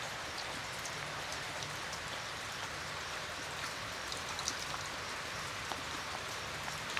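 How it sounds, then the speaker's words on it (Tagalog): Steady rain falling on a small farm in the rainy season, a continuous even hiss of drops with occasional sharper patters, no voices. "Wala pa rin po tigil yung ulan."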